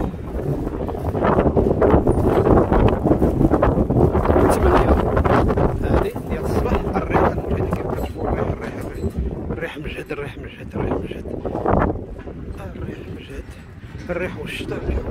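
Strong wind gusts through an early-morning storm in Al Hoceima with falling rain, a loud, buffeting roar that eases slightly midway while someone talks over it.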